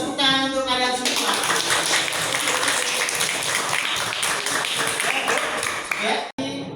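Students in a classroom applaud, loud mixed clapping that fills several seconds and stops abruptly, with a voice speaking briefly at the start.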